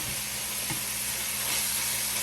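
Lamb frying in a pan for a game day meal, a steady close sizzle and hiss that holds evenly throughout with no one talking.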